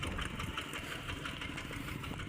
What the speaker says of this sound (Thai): ได้รถไถใหม่แล้วเนาะ